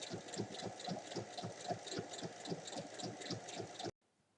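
A sewing machine topstitches 1 mm around the edge of a fabric basket with handles, giving a close, steady, rapid stitching throb for about four seconds before it stops abruptly.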